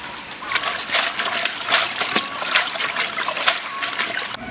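Leafy greens such as bok choy and choy sum rinsed under a running tap in a home kitchen, with a steady trickle and splash of water and brief sloshing bursts close by, continuous throughout.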